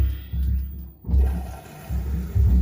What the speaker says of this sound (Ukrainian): Тепер воно от сюди лє воду.